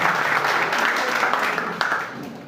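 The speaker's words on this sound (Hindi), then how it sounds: "एक बार जोरदार तालियों से सभी साथियों का स्वागत करें" An audience at a political gathering breaks into loud, dense applause for about two seconds before it starts to fade, with some voices mixed in.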